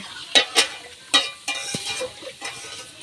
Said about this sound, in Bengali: এই যে মাংস কষাচ্ছে